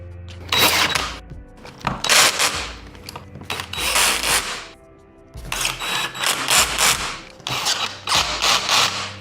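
Bolts being driven in to fix armrests onto a chair, with a mechanical clicking, ratcheting tool sound in several close, loud bursts separated by short pauses.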